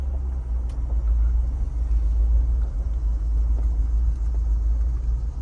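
A Jeep Wrangler powering over a hill on an off-road test track produces a steady, deep engine rumble with low drone throughout and no speech.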